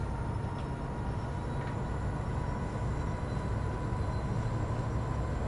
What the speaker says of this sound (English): Chuffing away, look. There we go, chuff chuff.